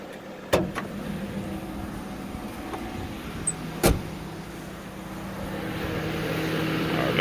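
A 2011 Crown Victoria Police Interceptor's air conditioning runs steadily with a low, even blower hum and engine drone, broken by a couple of sharp clicks or knocks, the hum swelling slightly toward the end.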